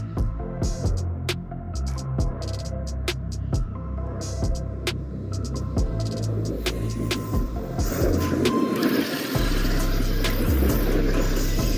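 An upgraded Arrma Kraton EXB 8S RC car runs at half throttle, giving a throbbing motor hum with sharp clicks and knocks scattered throughout, then a louder, denser drone near the end, fairly close, with no voices.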